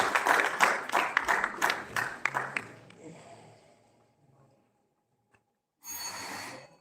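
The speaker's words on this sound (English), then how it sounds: "Let's have a round of applause" An audience at a national oratory contest claps in a burst of applause that starts strong, thins out and dies away, followed by a pause and then a short rustle of noise.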